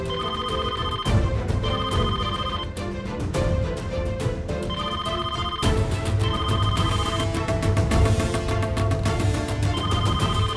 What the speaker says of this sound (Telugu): అరే ఫోన్ ఎత్తు తల్లి.